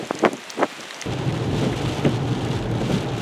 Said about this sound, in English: Some rain and some wind, nothing bad.